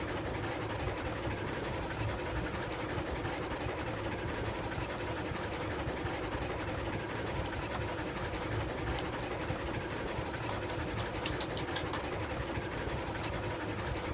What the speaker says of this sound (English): Is train noises too loud, anyone out there in YouTube land?